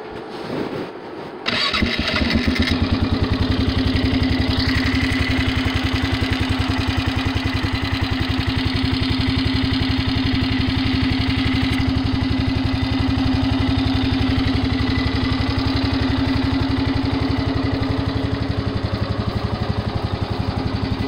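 A Polaris Magnum 500 ATV engine cold-starts after a brief crank, then settles into a steady, close, continuous idle that runs alone with no talk.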